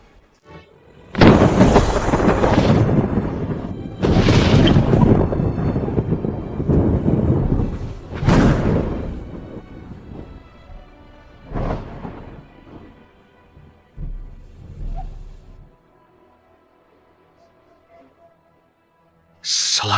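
Dramatic thunder effects in a fantasy drama: several heavy, booming thunderclaps with rolling rumbles, loud and spaced a few seconds apart, followed by quieter tails and a near-silent stretch.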